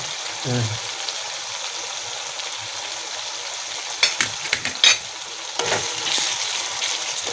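Coriander and cumin masala sizzles and is stirred into a ridge gourd and potato curry, a soft frying hiss throughout with scattered spoon scrapes and clinks, fairly close, with brief voices in the background.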